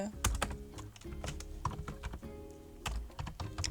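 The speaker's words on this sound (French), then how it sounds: "on va changer le titre déjà, avec mon nouveau super clavier ergonomique" Rapid clacking keystrokes on a new ergonomic computer keyboard, irregular bursts of close, crisp taps with brief pauses between them, no voices.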